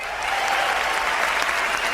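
A studio audience at a stage show claps and cheers for contestants walking on, a dense, sustained wash of applause with scattered shouts throughout.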